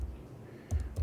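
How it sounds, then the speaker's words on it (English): Faint keyboard typing: a few sparse key clicks near the end after a quiet stretch. "I made a few mistakes when I was typing"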